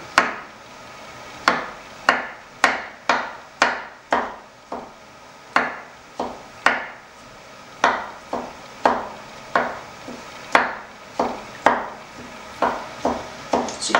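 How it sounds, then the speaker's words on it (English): Ingredients being chopped fine with a knife on a wooden cutting board, a series of sharp, fairly close knocks in uneven bursts with brief pauses between, no talking. "chop these up fine, throw them in the mixture"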